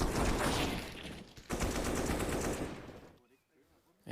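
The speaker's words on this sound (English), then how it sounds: "Alexi B loves the thrill of a gunshot down an open Banana." Bursts of rapid gunfire from a Counter-Strike match rattle loudly for about three seconds, then cut out, with commentary voices over the shooting.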